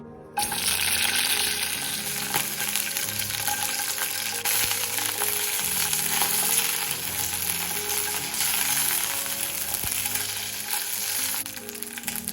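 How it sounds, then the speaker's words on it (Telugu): Green chillies and garlic fry in a spoonful of oil in a pan, a loud, dense, continuous sizzle that holds steady throughout, close up with no speech. "బాండీలో ఒక స్పూన్ నూనె వేసుకొని ఇందులో మనము పచ్చిమిరపకాయలు అలాగే వెల్లుల్లి"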